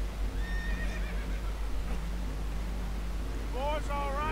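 Frightened horses neigh on a leaking boat in Red Dead Redemption 2, shrill whinnies rising over a steady rumble of water and hull noise, with one strong whinny near the end and voices faintly under the din.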